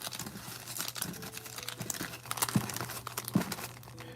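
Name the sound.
shuffling Pokemon cards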